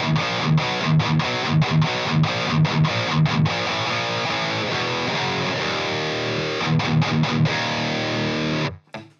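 Electric guitar riff through an EVH 5150 III amp at low volume, heavily distorted with rhythmic palm-muted chugs and ringing chords, alone, cutting off near the end.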